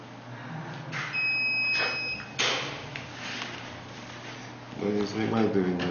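A breathalyzer at a roadside check gives a steady high electronic beep for about a second while being blown into, then a click and brief scraping; people talk close by.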